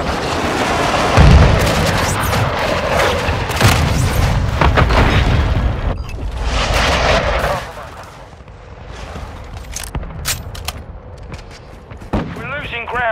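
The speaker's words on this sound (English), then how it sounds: "Our mortar strike is inbound." Mortar strike explosions in the video game Call of Duty: Modern Warfare II: loud, repeated booms mixed with crackling gunfire, heaviest at first, then easing into a quieter stretch of scattered shots. Radio voices speak over the blasts.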